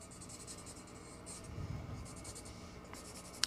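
Pencil sketching a giraffe on paper, faint steady scratching strokes close by, with a soft tap at the end.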